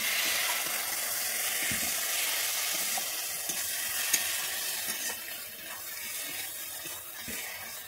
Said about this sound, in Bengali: 1 চামচ গরম মশলা গুঁড়ো দিয়ে দিচ্ছি, দিয়ে আমি আরেকটু কষিয়ে নিচ্ছি